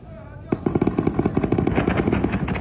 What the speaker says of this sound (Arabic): قصف جنوني يا ناس، القصف جنوني